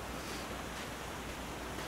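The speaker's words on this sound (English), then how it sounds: "Going by, it's like a waterfall." A waterfall in the survival video game The Long Dark: a steady, even rush of white water at low volume, continuing unbroken throughout with no voices over it.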